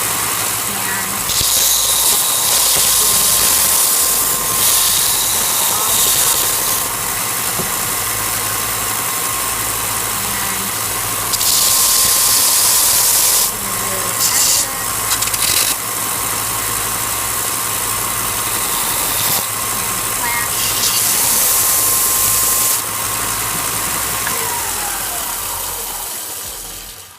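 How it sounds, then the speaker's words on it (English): A belt sander grinds along wooden pieces being shaped into decorative bricks, a loud steady whir with repeated brighter bursts as the belt bites into the wood, continuous for nearly half a minute without speech. "On this project, I'll probably just use the belt sander."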